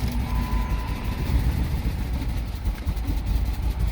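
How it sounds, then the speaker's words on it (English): A 2006 Jeep Commander with a 4.7 L engine misfiring (P0300) idles rough and close up, its low, uneven rumble pulsing without a break and no talk over it. "I will start this car"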